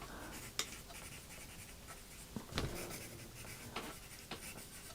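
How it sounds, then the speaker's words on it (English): Pen or pencil scratches across paper by hand in a flower coloring book, close and quiet, with short strokes and a few sharper ticks and no talking. "In fact, I'll write it down here."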